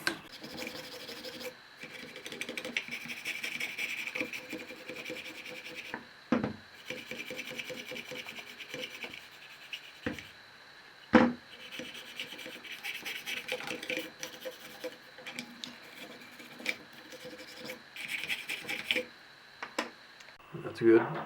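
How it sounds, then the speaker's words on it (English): A brush scrubs carbon from inside a rifle upper receiver in a steady, close rasping rhythm, broken by short pauses and a few sharp knocks. "Just going to scrub all that carbon out of there."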